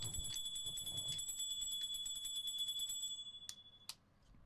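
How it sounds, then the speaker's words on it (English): Tinkly bells jingle in a quick cluster of bright, light rings, close and fairly quiet, then taper off into a couple of last isolated chimes. "Tinkly bells, Henry G."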